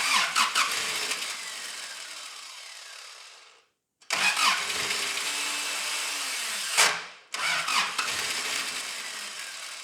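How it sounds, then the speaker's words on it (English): Starter motor on a Daihatsu Rocky cranks the engine in three loud, whirring bursts separated by abrupt gaps, with one near-silent pause and a rising whine before the last attempt, no voices. "Doesn't help the starter motor keeps kicking out."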